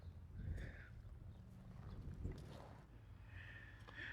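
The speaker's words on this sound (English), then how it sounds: "There's some horses out there." Horses moving outdoors near a French-style above-ground cemetery in the mountains, with soft clip-clop hoof sounds and light snorting at moderate distance over a steady low background rumble.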